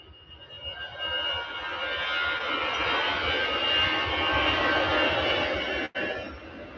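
A jet airliner at Manchester Airport roars steadily and loudly, a broad sustained engine rumble with whining tones that holds for several seconds before a brief dip, heard without any talk.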